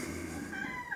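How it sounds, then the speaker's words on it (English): A cat meows to be let out the door, one drawn-out, wavering mew close by and fairly soft, with no voices over it. "Sorry about the mewing in the background. It's a cat that wants to go out the door"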